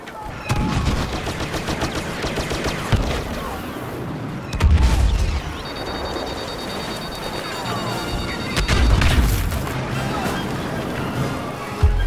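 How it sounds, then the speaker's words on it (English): Airstrike explosions and gunfire in the Star Wars Battlefront video game, a dense battle mix of rapid shots with two heavy booming blasts partway through, loud and continuous with game voice bits. "Airstrike incoming"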